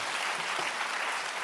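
Dense, sustained clapping from a colloquium audience at an autism conference, a thick wash of many hands held at an even level throughout, with no voices on top.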